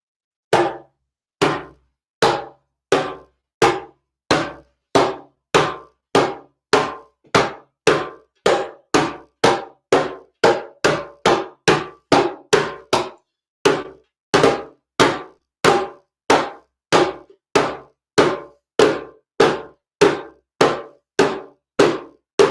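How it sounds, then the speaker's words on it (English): Deep bass tones on a hand drum, struck with the palm and all the fingers in the middle of the drumhead. Dozens of loud, close hits sound alone in a steady beat that speeds up partway through. "You can just put the palm and all your fingers towards the middle of the drum"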